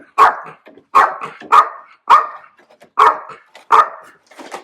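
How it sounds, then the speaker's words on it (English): A dog barks six times in a steady, evenly spaced rhythm, loud and close, with brief quiet gaps and faint whimpers between barks. "and Xena barking in my head makes it impossible for me to be able to think."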